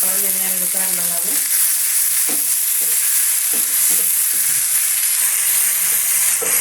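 Chopped tomato hits hot oil for a tomato pickle, giving a loud, steady sizzle and hiss throughout, with scattered clinks and scrapes of stirring. No one speaks.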